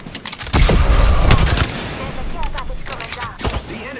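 Enemy gunfire in a video game crackles in rapid bursts, loud and near, with sharp repeated shots and a dense volley early on that thins into scattered pops.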